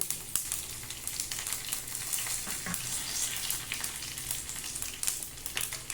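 Fennel seeds and bay leaves sizzle in hot oil in a home kitchen, a faint, steady crackle and spatter with a few sharper pops and no talking.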